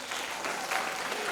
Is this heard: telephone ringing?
no